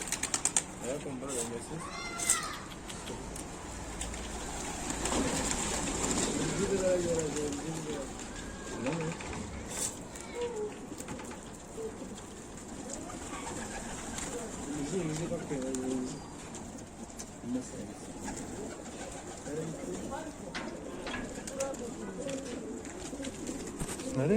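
A large flock of pigeons circling overhead at night gives off soft cooing calls and bursts of wing flapping, steady and moderately distant, while people talk throughout.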